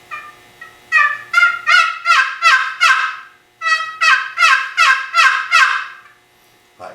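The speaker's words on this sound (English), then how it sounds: "But the basic yelp, I like to keep the lid down on the arc and do a short stroke" Mann Made turkey box call played with the lid kept low on the arc in short strokes, giving a basic hen yelp: two loud, close series of about six to seven raspy yelps each, separated by a brief pause.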